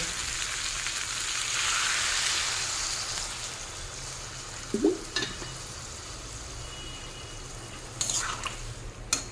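Water is poured into fried spice paste in a hot pan, with a broad sizzling hiss swelling at first, then scattered stirring scrapes and bursts of spattering, close by.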